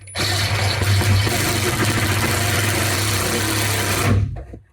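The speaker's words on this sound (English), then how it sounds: "then screw in with the new impact driver I have" A new impact driver runs continuously for about four seconds, driving a plus nut into a van bed frame with a loud, buzzing mechanical whir that cuts off abruptly, no speech.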